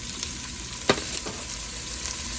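Peppers and onions sauté in hot olive oil for Cajun pasta, giving a steady close sizzle with a single sharp clink of a utensil against the pan partway through.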